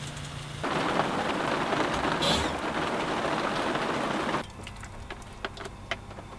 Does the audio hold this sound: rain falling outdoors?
yes